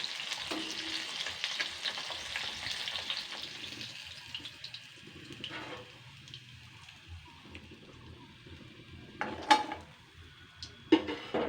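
Small mourala fish pakoras frying in oil, a soft sizzle that thins out midway, then a couple of sharp bursts of stirring or clinking near the end.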